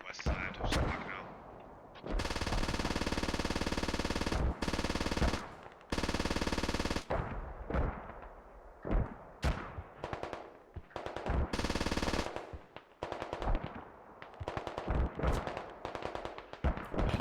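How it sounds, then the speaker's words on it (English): Rapid, loud bursts of automatic gunfire striking a turret in the tactical shooter Squad, with long sustained volleys broken by short gaps and single cracks. "Turret being shot."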